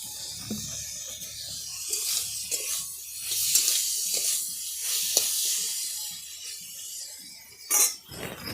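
Boiled bitter gourd fries in raw mustard oil, a soft, steady sizzle broken by the scrape and clink of a utensil stirring the pan, with a sharper burst near the end.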